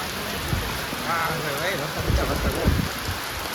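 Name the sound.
rain falling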